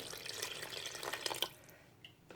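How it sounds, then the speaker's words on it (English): Water is poured into a cooking pot of okra and seafood, a close splashing pour lasting about a second and a half, then a few quiet drips as it settles. "We're going to add some water"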